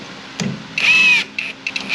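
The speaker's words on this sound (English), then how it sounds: "I'm just going to use the impact to run the bolts down" Impact wrench running down 10mm front suspension bolts on a Firebird, heard as a short, close, loud burst of whirring with a few lighter clicks and taps around it.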